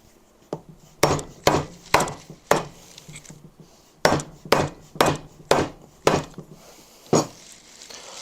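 Dead blow hammer striking the cylinder of a Honda CB350F motorcycle during top-end removal: about a dozen sharp, close blows, mostly in quick spaced runs of three to five, each with a short ringing decay.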